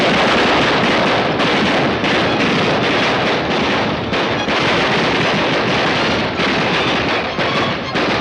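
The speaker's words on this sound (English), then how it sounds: "15 guys are busting off caps, trying to just shoot him wherever he may be" Gunfire from a scene in the film The Invisible Man Returns, a loud, dense and continuous barrage of overlapping shots and blasts that fills the whole stretch without a pause.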